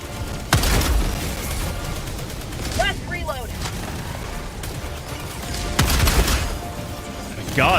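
Orbital strike explosions in a video game, set among gunfire and swarms of walkers on Malevalon: loud booming blasts land near the start and again later, with a steady drone of battle and crackling shots in between.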